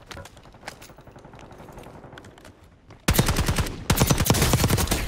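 Submachine gun fire in a shooter video game: faint rapid bursts at first, then loud sustained automatic fire in two long volleys after a sharp jump in level.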